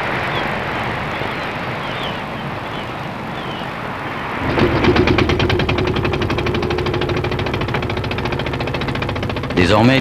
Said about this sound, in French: tous les ports de Bretagne se réveillent dans la pétarade des moteurs